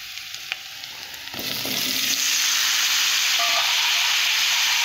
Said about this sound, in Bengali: এর সঙ্গে গরম মশলা দেব, দিয়ে ভালো করে ভেজে নেব